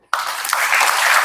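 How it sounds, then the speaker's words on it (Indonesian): Loud audience applause at a live Qur'an event in Indonesia, starting abruptly and holding as steady, dense clapping throughout. "Tepuk tangannya."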